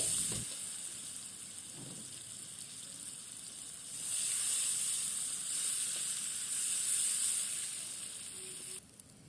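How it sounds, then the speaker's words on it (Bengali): Chopped onions fry in hot oil with a steady, loud sizzling hiss that swells and eases, plus a couple of faint clinks near the start. "এবারে তেলে দেব পেঁয়াজ কুচি"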